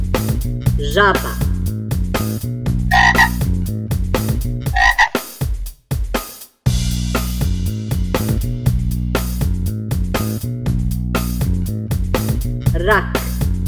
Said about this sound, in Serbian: Žaba.